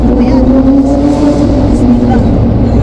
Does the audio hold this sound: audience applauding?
no